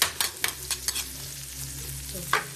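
Onions sautéing in a pan for tofu sisig, a steady close sizzle broken by several sharp scraping stirs of the utensil against the pan, with a low hum underneath.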